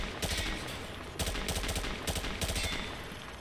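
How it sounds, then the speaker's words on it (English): Automatic rifle fire at range targets in Call of Duty MW2 Remastered, three loud sustained bursts of rapid shots with brief pauses between, no talking. "Grab that weapon off the table and fire at the targets behind you."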